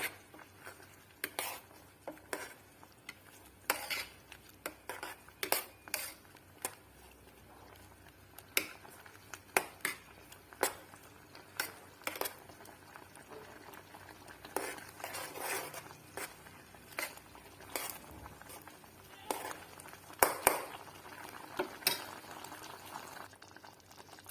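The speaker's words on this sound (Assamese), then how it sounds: "এইখিনি উতলি আছে, অকণমান লাৰি দিব।" Tamarind pickle bubbling in a pot while being stirred, giving soft, irregular pops and clicks with occasional scraping over a low, quiet simmer.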